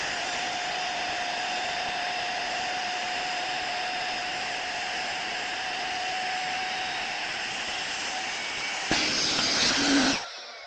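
A Flextail Max Pump 3 portable air pump on its vacuum setting hums with a steady, high whine throughout, briefly louder near the end before cutting off.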